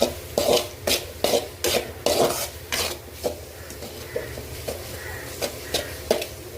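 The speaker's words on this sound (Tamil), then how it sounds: "கொரியாண்டர், கரம் மசாலா, சீரக பொடி எல்லாத்தையும் ஆட் பண்ணிட்டு நல்லா வதக்கணும்." Coriander, garam masala and cumin powder being sautéed in a pan for a creamy chicken gravy, heard as a steady run of scraping spoon strokes against the pan over a low sizzle, with no talking.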